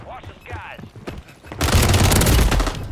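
Rapid automatic gunfire in a video game shootout erupts loudly in the second half after a quieter stretch with scattered shots and a player's voice.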